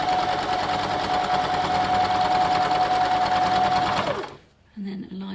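Domestic sewing machine stitching quilt blocks, a rapid steady whirring chatter close by that runs for about four seconds and then stops, followed by someone speaking.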